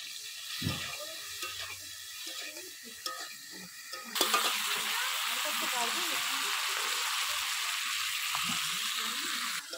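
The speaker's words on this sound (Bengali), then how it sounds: "চিংড়ি মাছটা লাল লাল করে ভেজে নেব।" Prawns frying in hot oil seasoned with salt and turmeric, a steady close sizzle that swells louder partway through and keeps going, with brief clinks and stirring noises early on.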